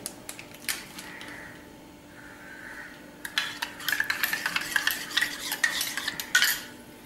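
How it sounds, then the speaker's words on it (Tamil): Sodium benzoate is stirred into warm water in a container, a spoon swirling and clinking against the sides in a rapid rhythmic series after a few quieter scrapes, close and without speech. "அதில் வந்து சோடியம் பென்சோயேட் கலக்க போகிறேன்."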